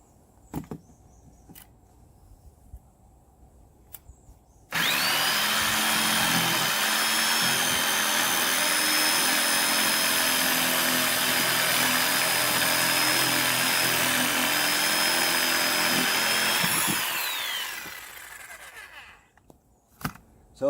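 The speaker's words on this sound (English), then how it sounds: "I'm going to use the jigsaw." A jigsaw cuts through a tough Hydroblox drainage block outdoors, running in one continuous loud, buzzing stretch of about twelve seconds after a few faint knocks, then winding down to quiet.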